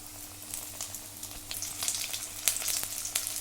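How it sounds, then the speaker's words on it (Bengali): Chicken deep frying in oil over a low flame in a home kitchen, a steady soft sizzle with scattered sharper crackles and pops, no voices. "ডিপ ফ্রাই করতে হবে, আমি একদম লো ফ্লেমে রেখে দিয়ে কিন্তু এটা করছি। পুরো একদম চিকেন ফ্রাই হবে আজকে"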